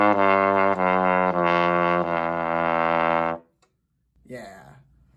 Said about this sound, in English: you can always try out a flugelhorn, which has some really awesome low notes called pedal tones